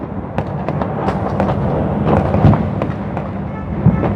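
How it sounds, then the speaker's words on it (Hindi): Firecrackers burst in a dense, continuous barrage during a festival, sharp cracks popping over a loud rumbling wash of explosions, some near and others farther off. "दुनिया वाले बम फोड़ रहे हैं, पटाखे फोड़ रहे हैं, बारूद फैला रहे हैं"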